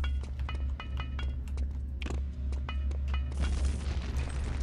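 A grenade blast in the shooter Return to Castle Wolfenstein bursts out loud near the end, after a stretch of rapid in-game gunfire and clatter, with a heavy low rumble filling the background.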